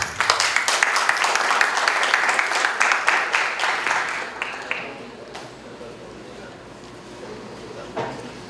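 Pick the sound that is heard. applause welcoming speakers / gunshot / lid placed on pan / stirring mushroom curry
applause welcoming speakers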